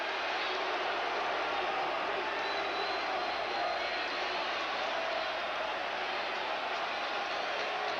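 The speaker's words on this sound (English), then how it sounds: "The crowd boos him." A large crowd at a 1988 Steelers–Bills football game in Buffalo roars steadily after a touchdown, a dense sustained wash of voices heard from a distance.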